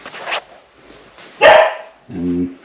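A dog at an Airbnb in Australia gives a couple of short, fairly close barks amid quiet room noise, with no speech.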